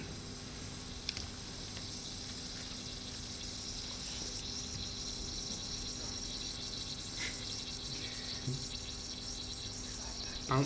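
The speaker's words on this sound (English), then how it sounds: "that's the sound of the fizzing from the metal breaking up in the water" A reactive metal breaking up in water makes a faint, continuous fizzing hiss, like bubbling, going on steadily throughout with a few small pops and ticks.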